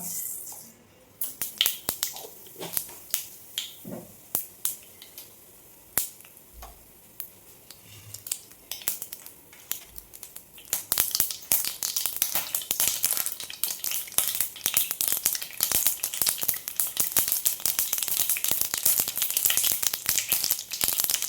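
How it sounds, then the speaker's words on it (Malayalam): Mustard seeds pop and sputter in hot oil in a pan while coconut rice is being cooked, with scattered sharp crackles that thicken into a dense, continuous spitting sizzle in the second half. "ഇനി ഇതേ എണ്ണയിലേക്ക് ഒരു ടീസ്പൂൺ കടുക് ഇട്ട് കൊടുക്കാം"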